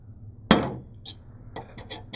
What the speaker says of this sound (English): Grab your hammer and just give it one good smack.